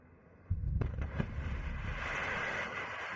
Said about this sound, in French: Le dynamitage est plus rapide et moins gourmand en carburant que les méthodes mécaniques, surtout dans la roche dure.